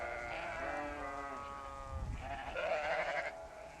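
Sheep on a farm bleat in a few drawn-out, wavering calls, one long cry followed by another a moment later, moderately close over faint background hum.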